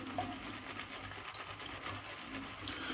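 Shaving brush scrubbing Gentleman's Nod Calabria soap in a bowl, a soft continuous wet swishing and brushing at medium pressure, steady and close, with a faint low hum underneath.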